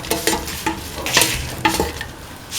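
A lentil dish with bell pepper and coconut milk is stirred in a pan, the spoon scraping in several distinct close strokes over a soft sizzle, with no talking.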